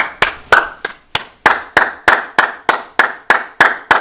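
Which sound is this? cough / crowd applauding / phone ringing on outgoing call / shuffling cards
crowd applauding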